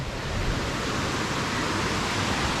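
Distant waterfall rushing in Arrowhead Provincial Park, Ontario, a steady broadband roar that stays even and unbroken, with no voices.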